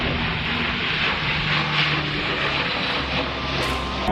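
C-130 fire tanker aircraft flying overhead during firefighting training, a loud steady propeller-engine roar filling the whole clip without letup, no talk over it.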